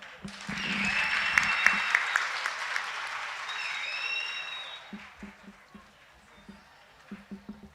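An audience applauds at a World AIDS Day celebration: a dense wave of clapping builds, mixed with high-pitched cheers, then thins to scattered claps.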